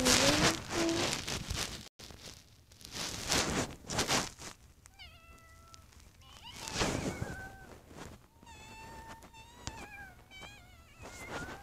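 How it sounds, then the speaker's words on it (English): A pet cat meows repeatedly in rising and falling calls over a background of rain-like hiss and noise, some meows drawn out and others short. "today I'm showing you my cat"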